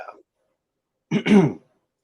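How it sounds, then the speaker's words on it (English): A single rough throat clearing, close and sharp, after a brief trailing bit of voice and a moment of silence. "I do have to clear my throat a lot"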